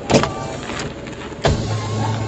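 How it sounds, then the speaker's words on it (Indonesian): Power windows of a newer European car at a showroom whir as the glass motors run, with a brief strong motor burst early and another near the midpoint, close and fairly loud with no talk. "Central lock, power window semua di tengah."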